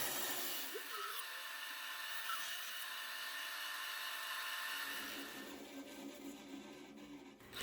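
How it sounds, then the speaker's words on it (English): Bandsaw cutting through a foam block sketched with a skull shape, a steady close whine and rasp running for several seconds before the blade winds down. "After sketching the skull onto the foam, I cut out the block with my bandsaw."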